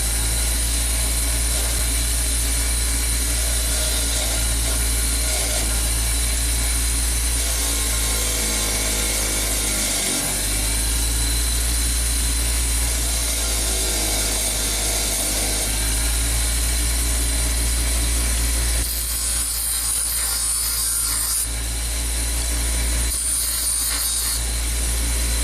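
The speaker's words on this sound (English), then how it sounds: "let's just clean up the bolt head and this mating surface on the wire wheel" A bench wire wheel scrubs a bolt head and its mating surface from a Hyundai alternator job, a steady loud whirring hiss that runs continuously with rougher grinding contact surges near the end.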